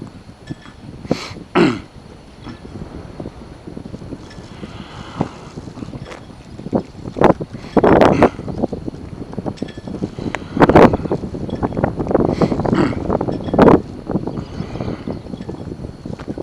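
Strong wind blowing outdoors, buffeting the microphone in loud irregular gusts and rumbles across the whole stretch, with a few brief thumps and no clear talk.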